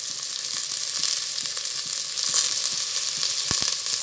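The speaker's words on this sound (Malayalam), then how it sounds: "ഇനി ഇതിലേക്ക് നമ്മുടെ സവാള ലൈറ്റായി അരിഞ്ഞത് ചേർത്ത് കൊടുക്കാം." Thinly sliced onions fry in ghee in a pan for a mutton biryani, a steady bright sizzle with occasional stirring clicks and one sharp knock near the end, and no one speaking.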